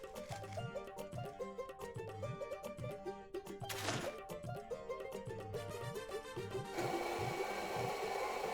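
A blender in the cooking game Venba whirs in repeated rhythmic pulses, its chopping churn cycling several times before settling into a steadier whine at the end, with no talking.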